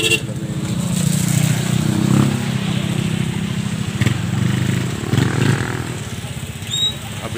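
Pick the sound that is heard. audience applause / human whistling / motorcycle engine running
motorcycle engine running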